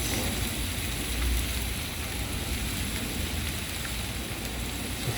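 Teriyaki sauce from a packet drizzled over noodles and meat on a Blackstone griddle, a steady broadband sizzle and hiss that holds evenly and loud throughout with no talk.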